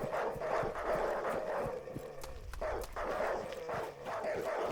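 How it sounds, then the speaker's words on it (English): Feral dogs chase the player in a video game, with repeated faint barks and padding footsteps in a loose, rhythmic pattern against a noisy background. "this is what it feels like to be chased by a pack of dogs"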